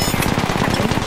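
Rapid automatic gunfire from a shooter video game, sustained bursts of rattling shots in a fast, continuous rhythm, loud and close with no talking.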